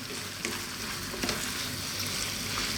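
Creamy bell pepper pasta warms in a pan over low heat, giving a soft, steady sizzle with a few faint stirring clicks and scrapes, quiet and close with no talking.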